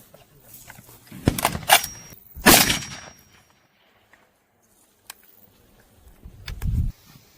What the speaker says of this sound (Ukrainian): 50 метрів, один постріл, набій горошок